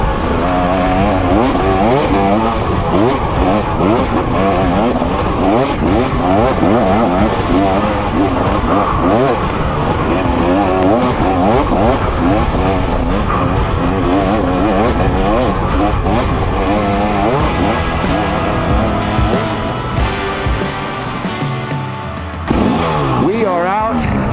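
A 2023 KTM 300 XC dirt bike roars continuously up close, its two-stroke engine revving and bogging through gear changes over rough ground for over twenty seconds, with a rider's voice faintly mixed under the engine, before it suddenly cuts quieter near the end.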